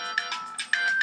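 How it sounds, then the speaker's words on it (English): A phone text message alert plays, a short bright electronic tone of a few rapid pulsed chimes, close and clear with no talking. "someone's texting me"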